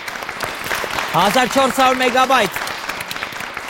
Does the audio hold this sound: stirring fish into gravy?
no